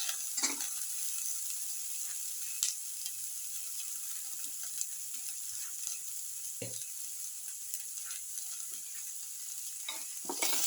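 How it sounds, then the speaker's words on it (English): Garlic paste sizzles steadily in a hot pan of oil, with occasional scrapes and clinks of a spoon stirring it, close and fairly quiet, with no talk. "Put in the garlic paste."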